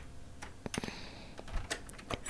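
Close, light clicks of a computer keyboard as a title is typed, a short irregular burst of keystrokes with uneven gaps, heard alone without talk.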